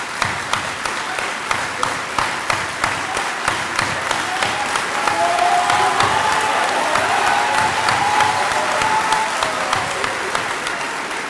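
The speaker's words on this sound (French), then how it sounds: "On voit que ce sont des applaudissements volontaires et pas des gens qui applaudissent avec un fusil dans le dos." Sustained applause from a large conference audience in a museum hall, dense and steady throughout with some cheering mixed in, fairly close.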